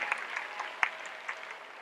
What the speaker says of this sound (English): So please give a round of applause to these amazing women and the work that they're doing.